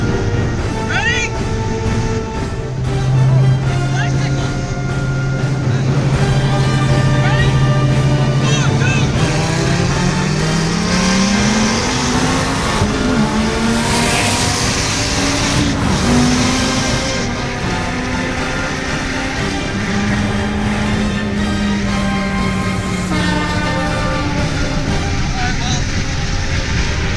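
A twin turbo Viper street racing at full throttle, its engine roaring loud and close as it climbs through the gears in rising sweeps with brief shifts, alongside another car's engine and excited voices talking over it.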